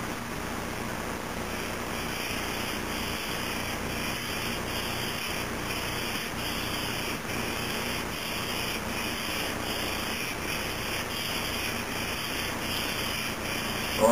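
Steady, rhythmic scratchy rubbing of sandpaper worked back and forth by hand, lapping the heatspreader of an Intel Q6600 CPU, close and continuous with no talking.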